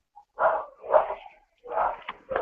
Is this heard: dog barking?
yes